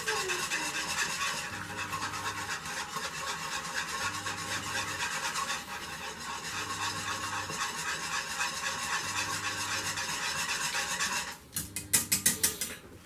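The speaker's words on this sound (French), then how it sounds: "Vous allez prendre un fouet et vous allez mélanger le tout ensemble. Alors ça va commencer à mousser" Whisk beating black soap into water until it foams, a steady scratchy rubbing and swishing of the whisk in a bowl, with a brief burst of clinking near the end.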